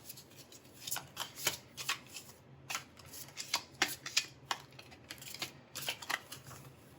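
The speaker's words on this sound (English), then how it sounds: "let me shuffle the cards" A deck of playing cards being shuffled repeatedly, crisp riffling bursts in a quick uneven rhythm, close and clear with no voices.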